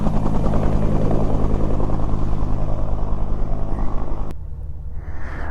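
A helicopter takes off in strong wind, its rotor thumping in a loud continuous pulsing roar close by, until the sound abruptly cuts to a low wind rumble near the end.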